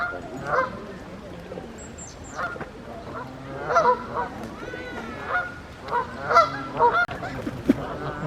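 Canada geese honk loudly in bursts, with harsh squabbling calls and sharp squawks as several birds fight close by.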